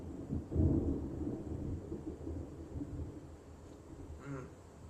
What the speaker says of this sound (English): I don't know if you guys can hear it, but it just thundered.